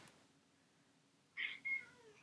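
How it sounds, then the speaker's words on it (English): A quiet room, then a cat gives two short meows close by, the second slightly drawn out. "She's meowing. Hopefully you guys can hear that."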